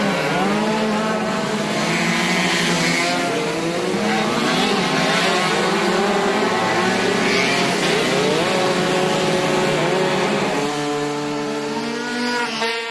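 Engines revving loudly at the start of a five-hour endurance race through the streets of Gimnée, an overlapping roar of motors rising and falling continuously, close and dense, with no voices.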